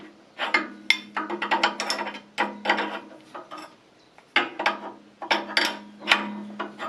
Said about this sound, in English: Loosen the nut over there